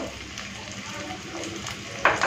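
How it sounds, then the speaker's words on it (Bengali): Ginger and garlic frying in oil with ground spices such as turmeric give off a steady, close sizzle, with a brief louder crackle near the end and a faint voice underneath. "আদা রসুনটাকে ভালো করে ভেজে নিয়েছি কাঁচা গন্ধটাও চলে গেছে"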